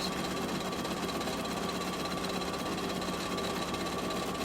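A sewing machine hums steadily and quickly as it stitches an appliqué design onto a T-shirt, a constant close-up mechanical whir with no pauses.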